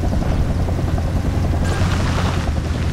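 A helicopter in the video game Wild Metal Country drones with a steady, heavy low rotor rumble and chop, loud and close, running the whole time with no speech.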